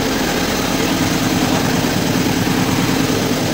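A generator engine runs steadily after getting a new battery, a loud, continuous low idling drone with a constant hum and no pauses, heard alone without voices.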